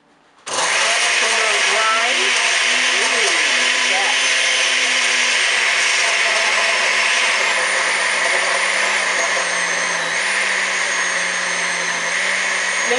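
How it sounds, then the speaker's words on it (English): A countertop blender whirs loudly and continuously as it blends strawberries and bananas, starting abruptly after a brief quiet moment and holding a steady high-pitched motor roar with shifting tones as the fruit breaks down. "This is a blender. It's not a food processor, but it should work."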